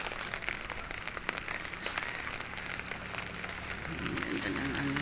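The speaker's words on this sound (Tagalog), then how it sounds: "Maulan dito sa amin ngayon." Steady rain falling outdoors around potted garden plants early in the morning, a continuous dense hiss with scattered drop patter, moderately loud and close throughout.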